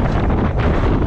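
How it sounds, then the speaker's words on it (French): Strong wind buffets the microphone in a constant low roar, with gusty rumbling and no voices. "Alors Joe, il y a un peu de vent, un peu, il y a un petit peu."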